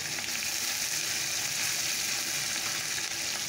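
Chopped onion frying in hot oil in a wok, a steady, dense sizzle that holds evenly close up and alone throughout.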